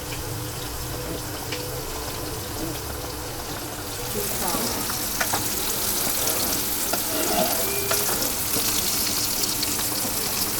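Mixed fish and prawns frying in a pan make a continuous close sizzle that grows louder and busier partway through, with occasional scrapes from stirring.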